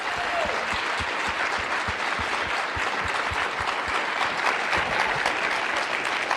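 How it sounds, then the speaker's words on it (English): An audience applauds police officers, loud and sustained, a thick continuous wash of clapping holding steady for several seconds with no speech above it. "can we all just give a round of applause for the men and women that serve in our police departments?"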